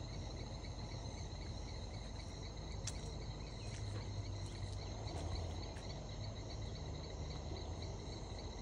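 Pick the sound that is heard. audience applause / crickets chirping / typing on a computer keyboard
crickets chirping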